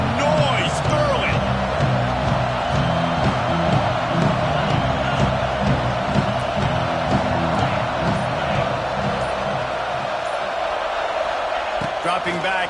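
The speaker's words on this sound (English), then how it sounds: "This crowd bringing the energy and noise early" A football stadium crowd roars and cheers in a broad, continuous wash of noise, with an announcer talking over it.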